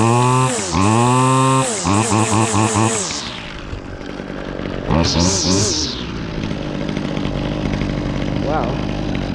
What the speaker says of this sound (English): for a lower end trimmer, this thing actually runs and performs very well